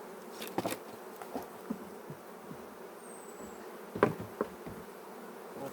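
A honey bee swarm removed from a wall buzzes continuously at close range, with scattered sharp knocks and bumps from handling the hive frames, with no talking.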